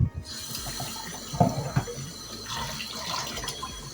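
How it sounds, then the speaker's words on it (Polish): Cold tap water runs steadily into a pot over boiled eggs, a continuous splashing hiss with a few knocks and clatters near the start. "musimy zalać je teraz zimną wodą"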